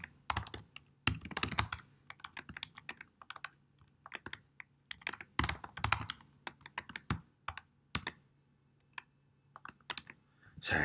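Keys clack on a computer keyboard in irregular bursts and single taps over a faint steady hum, with pauses between runs of typing.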